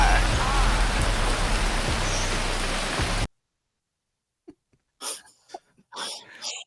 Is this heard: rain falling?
yes